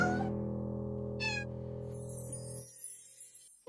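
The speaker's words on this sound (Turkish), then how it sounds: "Yaramaz kedi seni." A cartoon cat lets out short meows over a sustained tonal background, with a couple of brief high calls early on before the sound fades into thinner noise.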